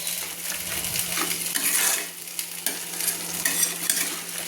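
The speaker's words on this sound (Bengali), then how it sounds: "আর ওদিকে দেখুন আমার মশলা কষানো হচ্ছে, সুন্দর করে মশলা কষানো হচ্ছে" Spice masala sizzles and fries in a pan for a katla fish curry with potato, a steady crackling sizzle broken by several scraping stirs of a utensil, close and fairly loud.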